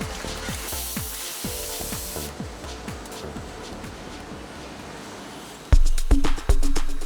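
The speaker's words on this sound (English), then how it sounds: "Compressed air is used to clean the completed brush heads." Compressed air blasts over finished toothbrush heads in a factory, a continuous broad hiss over rhythmic mechanical thumps, then several sharp loud bursts and clacks toward the end.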